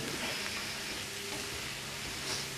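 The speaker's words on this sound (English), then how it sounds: "So I'm just going to keep stirring." Chicken coated in Dijon mustard sizzles and fries in a pan while being stirred, a steady, close crackling hiss with a constant broadband texture and no voices.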